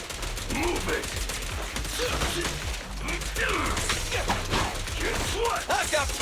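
Gunfire in the Zenless Zone Zero video game, dense and continuous with rapid shots layered over combat effects, mixed with voices talking throughout.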